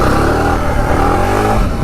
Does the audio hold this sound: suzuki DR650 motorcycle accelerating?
yes